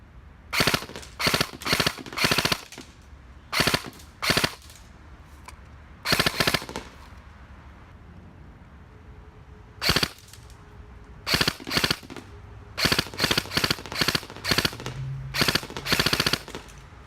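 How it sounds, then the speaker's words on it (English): A Classic Army airsoft rifle loaded with 0.20 g BBs fires repeated short bursts up close, sharp clusters of rapid shots separated by quiet gaps, some bursts running longer than three rounds. "Second test is going to be 3-round bursts."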